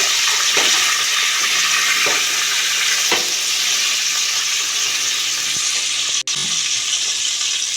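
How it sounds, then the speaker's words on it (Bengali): Cauliflower, potato and beans frying in a pan, a loud continuous hiss of sizzling oil with a few soft stirring knocks. "এখন আমি চিনি থেকে প্রায় মিনিট সবজিগুলো একটু ভেজে নেব"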